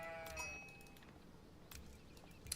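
Sheep bleating in a strategy video game, a quiet harmonic bleat at the start followed by softer clicks and brief game sounds, all faint.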